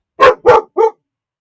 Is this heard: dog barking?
yes